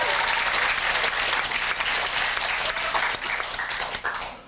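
Concert crowd applauds vigorously at a folk concert as band members are introduced, a full, sustained roar of clapping that holds steady throughout.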